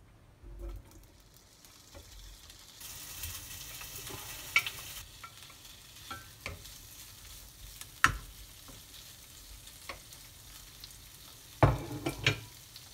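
Shrimp fry in hot oil in a pan for raviolis, a quiet steady sizzle broken by a few sharp clatters and a louder burst of crackling near the end.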